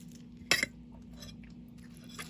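Close, quiet chewing of maruya, a fried banana fritter, and waffle, with a crisp crunchy bite near the start followed by softer chewing and faint clinks over a low steady hum.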